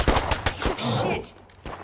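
Rapid bursts of machine gun fire from the video game State of Decay 2, loud and close, with several quick volleys, then a sustained rattle that trails off into quieter shots.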